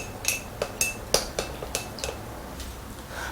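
A spoon or utensil clinks repeatedly against a bowl while marinated meat is mixed with cornstarch and ground white pepper, a series of sharp, close taps slowing and fading toward the end.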